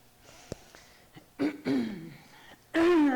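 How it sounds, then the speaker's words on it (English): A woman clears her throat in a quiet yoga studio: a few soft, short rasps, then a louder, fuller clearing at the end. "I'll start by clearing my throat"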